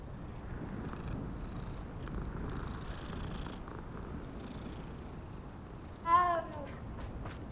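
A cat in a video game purrs in a soft continuous rumble for several seconds, then lets out one loud, clear meow near the end.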